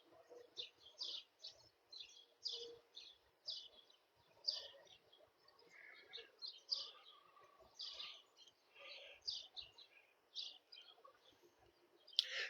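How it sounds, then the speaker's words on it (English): Wild birds sing and chirp in quick bursts throughout, several calls overlapping at a moderate distance in a quiet outdoor setting, with no talking. "All the birds are coming out now."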